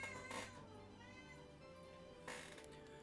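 A needy pet cat lets out two short, sharp meows, one near the start and one near the end, close by, with a quieter stretch of steady background hum between them.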